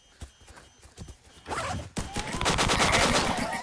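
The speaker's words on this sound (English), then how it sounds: "I hear gunshots from somebody on the microphone." Gunshots in a zombie survival video game set in North Dakota: a few scattered reports early on, then a loud, rapid burst of repeated shots with mixed game noise, close and dominant.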